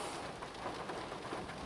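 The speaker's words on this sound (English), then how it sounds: "It's raining here, guys." Steady outdoor rain with a dense, even hiss and patter throughout, heard while working on a 1998–2002 Toyota Corolla, with no voices.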